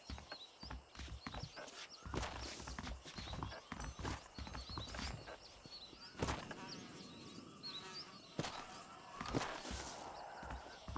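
Horse hooves clip-clop steadily in Red Dead Redemption alongside insect buzzing and an occasional snort, with irregular louder thumps breaking through the quiet outdoor game ambience.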